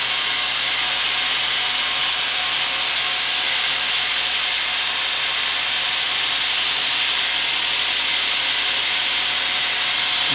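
A sander grinds steadily against a knife blade, giving a continuous, loud, even abrasive hiss that runs unbroken with no talking.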